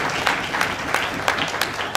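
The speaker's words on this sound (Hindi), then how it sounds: "जोरदार तालियों से हम लोग उनका स्वागत करेंगे।" An audience claps in welcome as a cabinet minister enters a patriotic public event; dense, steady applause runs through the whole stretch with a few sharper claps standing out, moderately loud and without talk.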